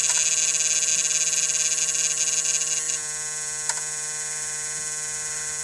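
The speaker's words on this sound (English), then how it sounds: "I usually turn on the key, gets the fuel pump working." Fuel pump on a 1988 New Holland L553 skid steer running with the key on, a steady electric hum and buzz with a drop in level partway through, close and continuous with no talking.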